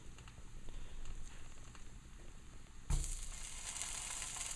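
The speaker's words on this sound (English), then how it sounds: "it was a minimal sizzle just because, I turned it down." Soft, steady sizzling of chorizo frying in a pan on low heat, quiet and close, growing brighter and louder partway through as the hiss intensifies.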